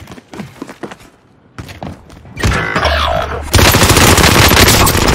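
Heavy gunfire erupts in the Call of Duty Warzone video game on Rebirth Island, with a FARA 83 in play: scattered thumps and shots build into loud, sustained automatic fire that runs to the end.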